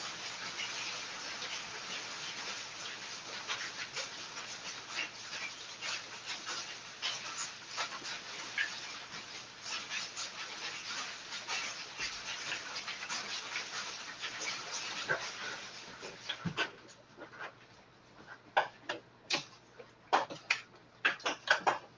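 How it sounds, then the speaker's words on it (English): Decent-sized hail falling during a storm: a dense, steady roar of pellets striking surfaces that thins after about sixteen seconds into scattered, sharp individual impacts, with a little quiet talk in the background. "There's some decent sized hail."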